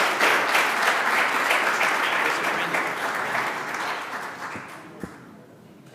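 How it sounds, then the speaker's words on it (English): A roomful of people at a city council meeting applauds local small businesses, with steady clapping that fades toward the end and a single sharp knock near the finish. "Let's give the small businesses a round of applause."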